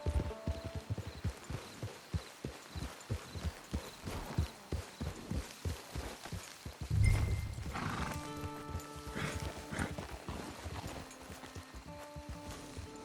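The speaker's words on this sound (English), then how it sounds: "Get your horse." In Red Dead Redemption 2 Online, a horse's hooves clip-clop in a steady walking rhythm, then the horse lets out a loud neigh midway, followed by softer snorting and ambient game sounds.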